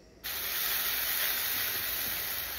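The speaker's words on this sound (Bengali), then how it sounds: "এইবার এই তেলের ওপরেই আরেকটু তেল দিয়ে তাতে একটু গোটা গরম মশলা ফোড়ন দিয়ে দেন" Whole garam masala dropped into hot oil in a pan: a sudden loud, steady sizzling hiss that starts abruptly and continues evenly, close up with no talking.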